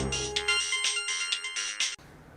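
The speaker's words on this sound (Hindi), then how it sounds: "किसी नावेद का फ़ोन है?" A mobile phone ringtone for an incoming call plays as a bright electronic melody of repeated beeping tones, loud and close, cutting off abruptly near the end.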